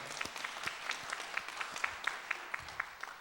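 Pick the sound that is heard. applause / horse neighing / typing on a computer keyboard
applause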